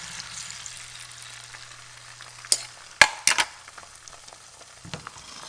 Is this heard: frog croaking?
no